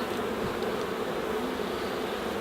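Honeybees swarm around open hives infested with small hive beetles, their dense, even buzzing filling the air continuously and close up, with no voices.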